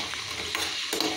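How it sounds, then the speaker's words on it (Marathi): Oil sizzling in a pan as food fries on the stovetop while making tawa pizza, a continuous soft crackle with a few faint scraping stirs, moderately close and without talk. "आणि हे पण आता इथे तळते मम्मी"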